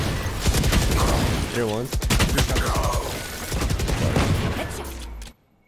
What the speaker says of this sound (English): Yeah, everybody shoot it, yeah.